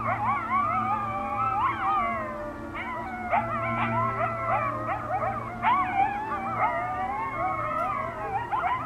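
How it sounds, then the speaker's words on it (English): A pack of coyotes howls in daylight, several overlapping wavering howls and yips rising and falling together, fairly close and continuous, with no talk over them. "is another great footage of a pack of coyotes howling. This time, they are doing it during the day."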